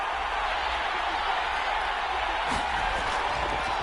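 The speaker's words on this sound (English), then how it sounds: "Crowd getting in it a bit already." Steady stadium crowd roar in a Madden 22 football game between the Lions and Jets, a broad continuous wash of noise with a slight swell near the end and faint talk underneath.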